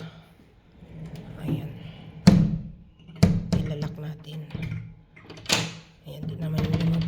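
Several dull knocks and clacks from a door in a hotel room with a transparent bathroom, spaced irregularly under steady room noise, with a voice speaking in the background.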